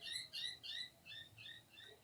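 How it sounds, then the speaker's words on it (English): Wild birds calling outdoors in Australia: a quick series of faint, high chirps in short bursts, heard at a distance with no voices. "I don't own birds, they just fly around and make a lot of noise"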